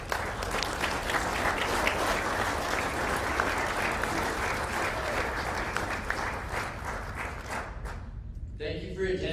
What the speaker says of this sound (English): All right, one more round of applause for these contestants.